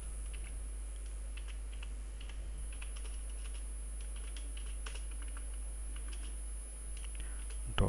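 Rapid typing on a computer keyboard, a steady stream of close, light key clicks over a low constant electrical hum, with no talk.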